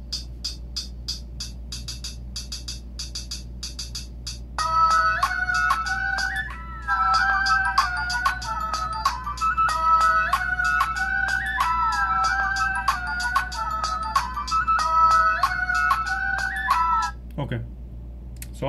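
An Alcatel 7 phone ringtone plays at its highest volume, a steady looping electronic melody with tonal chimes that starts a few seconds in and runs near and moderately loud until cutting off just before the end.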